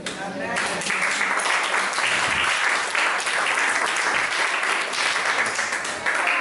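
A church congregation applauds in a dense, steady burst of clapping that fills the room for several seconds, loud and continuous, with voices mixed in.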